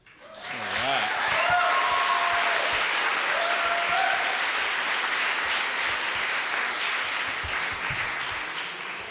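A crowd claps and cheers enthusiastically after a speech, a loud sustained wash of applause with a few whoops near the start, gradually fading toward the end.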